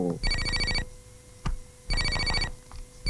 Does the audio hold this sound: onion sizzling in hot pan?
no